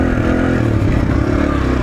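A Suzuki DR-Z 125L dirt bike engine runs steadily while being ridden, a close, loud, buzzy drone with a slight flutter and no talk over it.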